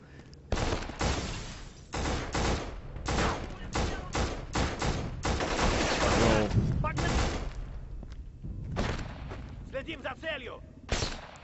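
Dense gunfire and explosions in the PS2 shooter Black, rapid bursts of shots and booming blasts running almost continuously, with a player's voice talking over the action.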